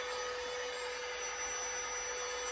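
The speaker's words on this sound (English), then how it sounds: "it's a multi-purpose vacuum home and car cleaner" A cordless, portable multi-purpose home and car vacuum cleaner runs steadily for the whole stretch, giving a constant motor whine and airflow hiss with a strong steady tone and no talking.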